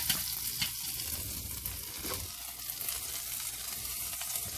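Keto codfish cakes frying in a frying pan, a steady close crackling sizzle with occasional pops and stirring scrapes, no voices.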